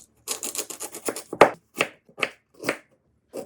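A knife slices daikon radish into thick strips on a board. The close, crisp cuts come in a quick run of strokes, then a few spaced single chops follow with short silences between them.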